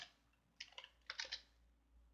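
A few quick bursts of keystrokes on a computer keyboard as a command is typed for a Linux archive, short clusters of clicks with pauses between, fairly faint and with no talking.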